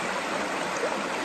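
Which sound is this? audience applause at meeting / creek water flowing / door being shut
creek water flowing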